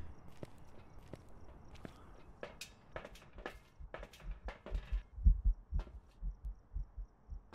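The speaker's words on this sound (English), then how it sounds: "Because I heard heart beating." A faint heartbeat effect from the ghost-hunting game Phasmophobia, with soft, low thumps in an uneven rhythm over a quiet background, accompanied by scattered light clicks and taps.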